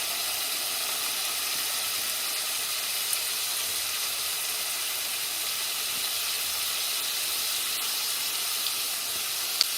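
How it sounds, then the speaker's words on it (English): Homemade potato chips fry in a pan of hot oil, giving a steady, even hiss and sizzle that carries on without a break, close and fairly loud, with no talk. "start adding your potato chips"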